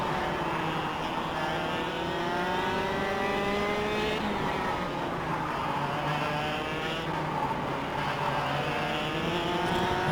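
Racing kart engines in the KartKraft kart racing sim drone steadily with shifting harmonic whine, pitch rising and falling as karts accelerate and brake through corners, loud and continuous with no talk.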